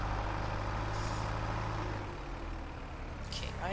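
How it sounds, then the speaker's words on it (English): A vehicle engine in the Farming Simulator 22 game, heard as a steady low rumble with a faint hiss above it. The rumble drops off partway through and continues more softly afterward. "Okay, I hear a car."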